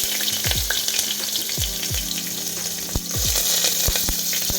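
Onions hitting hot oil already spiced with cinnamon, cardamom, cloves and bay leaves, frying with a loud, close, continuous sizzle broken by repeated short clatters and stirs.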